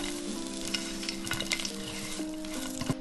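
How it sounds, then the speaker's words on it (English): Brussels sprouts sizzle face down in a hot pan, a steady close frying crackle with occasional sharper pops and light scrapes, no voices. "We're gonna flip all of our sprouts so they're face down in the pan, and this is so they get nice and browned and a little bit crispy"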